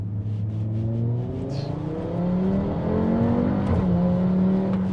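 An Audi RS3 with a 400 hp engine revving hard, the warm exhaust starting to pop, its rising and falling engine note close and loud, with a brief crackle near the middle.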